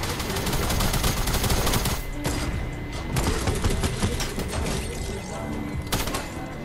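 Tactical assault rifle fire in the Fortnite Arsenal game mode, loud dense bursts of rapid gunshots that come in close, heavy volleys with short gaps between them.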